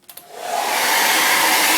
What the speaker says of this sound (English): And then we get out our hairdryer.